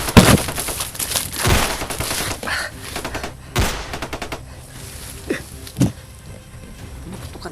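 Video game gunfire in an intense shooter battle, scattered bursts and sharp single shots spread unevenly across the stretch, loud and close with quieter gaps between volleys.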